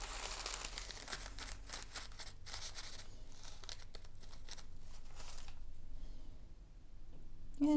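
A paper towel crinkles in quick, soft bursts as it dabs excess paint off a handmade dragonfly necklace piece, then quiets near the end.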